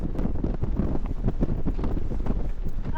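Strong gusty wind buffets the microphone at the Coober Pedy lookout. It is a continuous loud roar with rough low-end turbulence throughout.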